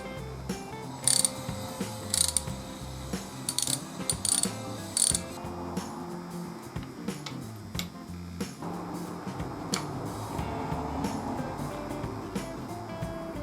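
A ratchet clicks in quick bursts while loosening bolts on a Harley-Davidson master cylinder clamp on the handlebar, the sharp close ratcheting repeating several times before giving way to softer handling noises.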